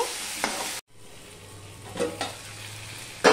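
Ridge gourd and potato pieces being sautéed in a pan for a fish curry, with soft sizzling and a few scraping stirs near the mic, broken by a brief silent gap.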